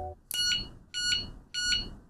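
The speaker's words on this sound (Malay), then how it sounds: "dia ada 3 kali beep sebagai tanda amaran" Anti-theft padlock alarm giving three short, sharp, high-pitched electronic warning beeps in an even rhythm, close and loud, with brief gaps between them and no speech.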